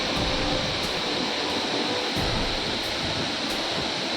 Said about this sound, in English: Can you hear the roaring water coming down, falling from such a height?